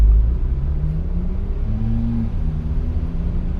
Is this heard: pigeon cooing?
no